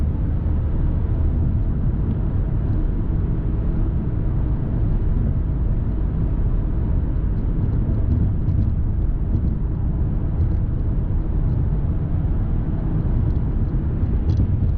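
A car accelerates steadily during a driving lesson, its engine a continuous low droning rumble held at an even level throughout, with faint road noise and no distinct gear-change break standing out.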